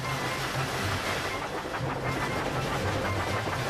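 A toy steam engine named Thomas hauls milk churns along a track, a steady rolling clatter with soft hissing and a repeating rhythmic chuff throughout, fairly near and without talk.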